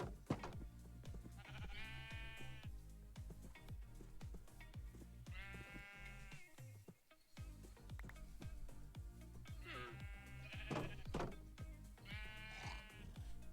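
Sheep in the Minecraft video game bleat repeatedly in wavering, nasal calls over a busy game soundscape, several bleats clustering in bursts with short gaps between them.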